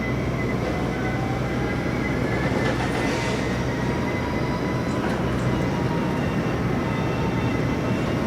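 A large plane at Manchester Airport gives a loud, continuous broadband roar that holds steady throughout, with faint tonal whine on top.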